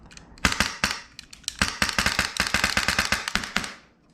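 A custom Polarstar Kythera airsoft gun fires BBs in sharp, close, loud snapping shots, first spaced singly, then quicker, nearly continuous bursts before stopping.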